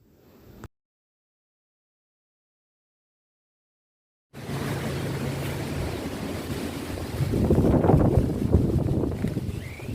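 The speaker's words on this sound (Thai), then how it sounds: "ลมแรงมากเลย" Strong wind blows across an open outdoor spot, heard as a steady broadband rushing roar that begins after a short silent gap and swells louder near the end.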